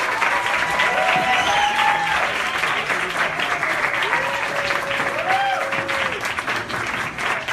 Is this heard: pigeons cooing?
no